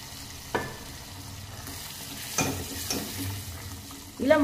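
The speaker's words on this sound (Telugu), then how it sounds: "పప్పుని అయితే ఈ విధంగా వేసేసుకొని కలుపుకోవాలండి" Toor dal is stirred into hot tempering in a pan over a low flame: soft background sizzle broken by a few sharp scraping bursts of the spoon, the last one louder and longer.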